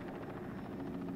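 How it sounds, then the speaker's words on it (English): A helicopter flies in a film scene, its steady, dense rotor and engine drone filling the short stretch at constant loudness without voices. "So here goes Nate, the helicopter pilot"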